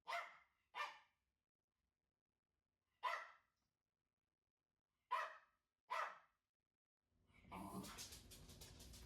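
A dog gives five sharp, separate barks, two close together at first and then spaced out with silent gaps, followed by a stretch of rustling noise at the end.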